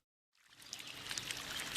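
Water rushes continuously beside a mountain hiking trail in the Basque Country, a stream fading in from silence and then flowing steadily and fairly close, with no voices.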